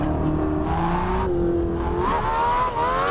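Engine of a 1973 BMW 2002 drift car at Nelson Ledges in Ohio revving hard at full throttle, a loud continuous close roar with rising and falling pitch and a brief squeal of tires near the end.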